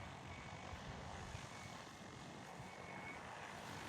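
A large agricultural drone, nearly helicopter-sized, flies over a farm field, its rotors making a steady, continuous broadband drone that holds at a constant level throughout, with no voices.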